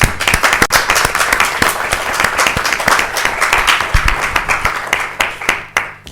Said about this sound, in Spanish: yo os daría un aplauso grande